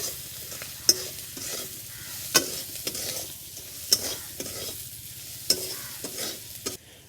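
Masala with turmeric being stir-fried in a pan: a soft continuous sizzle punctuated by sharp spoon taps and scrapes against the pan every second or so, close and clear, with no talking.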